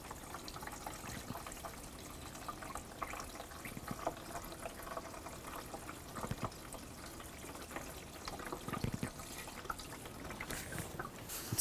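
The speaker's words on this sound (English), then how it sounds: "We can start adding coolant, and we'll just keep checking it with that dipstick as we go." Coolant pours into the coolant reservoir of a 2013-2018 Dodge Ram 1500, making a faint, steady trickle of liquid with occasional drips and small knocks nearby, and no one talking.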